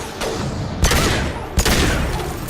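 Gunshots in a video game: two sharp, loud blasts about a second apart, each trailing into a long booming decay over a constant rumbling background.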